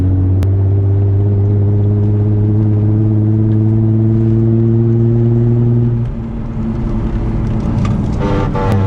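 A Nissan 350Z fitted with a Tomei exhaust drones loudly and steadily while driving, its deep rumble holding for several seconds, then dropping off and climbing again in a rising rev near the end.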